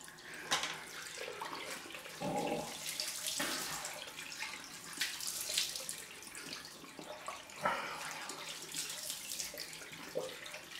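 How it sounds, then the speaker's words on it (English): Cold tap water runs and splashes into a sink for a rinse after a double-edge razor shave, steady and close with uneven surges and gurgles, no talking. "cold rinse time"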